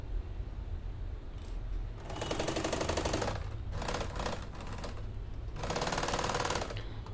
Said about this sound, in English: So just going to do a back stitch when we start as well as stop.